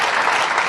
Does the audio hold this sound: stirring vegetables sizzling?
no